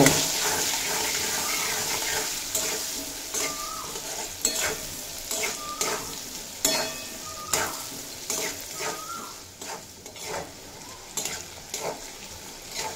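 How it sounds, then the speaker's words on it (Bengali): Okra fries in a pan with salt and turmeric, giving a steady sizzle while a spatula stirs and scrapes the pan in repeated close strokes. "সাথে দিয়ে দেব স্বাদ মতো লবণ আর পরিমাণ মতো হলুদের গুঁড়ো দিয়ে খুব ভালোভাবে ভেজে নেব।"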